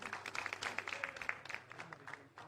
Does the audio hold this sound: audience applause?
yes